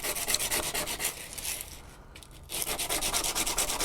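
A hard seed is rubbed hard against sandpaper, making rapid, rhythmic gritty scraping strokes close to the microphone, with a short pause partway through.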